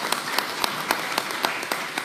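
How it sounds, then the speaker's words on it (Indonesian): Audience at an Indonesian political party event clapping for a party leader, an even rhythmic beat of claps at a moderate distance for a couple of seconds. "Ibu Profesor Dr. Megawati Soekarnoputri, kita berikan tepuk tangan yang meriah buat beliau."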